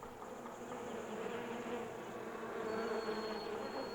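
Honeybees buzz in a steady, continuous drone that holds at an even loudness throughout, with a faint higher whine joining partway through and no voices.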